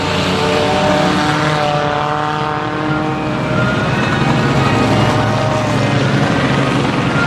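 Race cars roar past on the Grand Rapids Speedway track during an enduro race finish, a loud, continuous engine drone that swells and holds steady throughout with no pauses.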